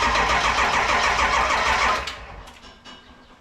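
A 7.3 Powerstroke diesel in Minnesota cold cranks slowly with a loud, rough, rhythmic churn, then the cranking cuts off and the sound falls away to a quieter rumble.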